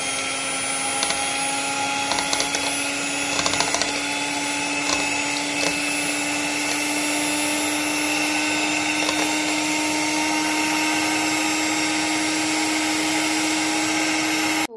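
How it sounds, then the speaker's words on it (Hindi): An electric beater whirs steadily and loudly while whisking three eggs for a chocolate cake, a constant motor drone with small clatters against the bowl throughout. "हम इससे जो अच्छी तरह से इसे बीट करेंगे"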